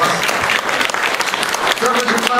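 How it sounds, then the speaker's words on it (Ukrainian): Audience applause fills a hall at an awards ceremony honouring laureates of a conscientious taxpayers rating, a dense, steady wash of many hands clapping close and loud throughout, with a few voices mixed in. "Я попрошу ваших перших овацій."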